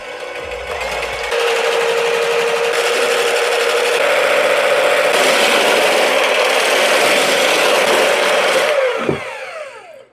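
An electric whisk whirs steadily while mixing keto pumpkin pie filling, a loud continuous motor hum that rises in speed after a moment, runs evenly, then winds down and stops near the end.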